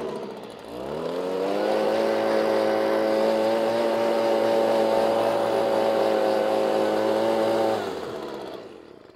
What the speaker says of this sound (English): But for me, a blower at the moment is doing the job. So let me just show you how I work it.